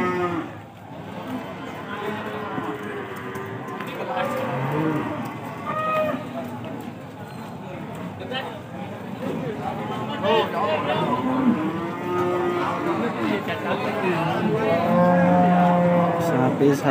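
Several beef cattle at Pasar Pahing livestock market in Pati moo repeatedly, some near and loud, others farther off, over busy market chatter and voices talking throughout.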